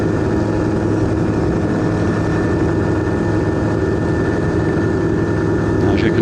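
A light aircraft engine drones loudly and steadily as the plane climbs after takeoff, a constant, dense roar with no breaks.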